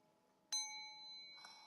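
A single gong is struck once, ringing out with a sharp attack and a long, shimmering sustain that lingers steadily, with a slight swell near the end; no one speaks.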